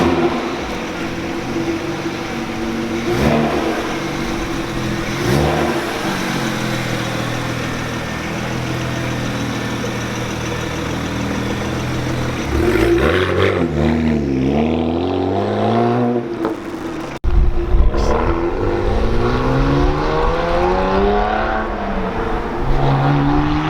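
A BMW 335i engine idles, then revs up with rising and falling pitch as the car pulls away and accelerates, fairly loud and close.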